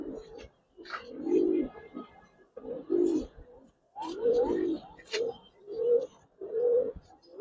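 Giribaz pigeons at a pigeon farm cooing in repeated low, throaty bursts, several overlapping calls close by, with short pauses between phrases and no talk over them.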